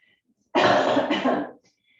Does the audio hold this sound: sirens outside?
no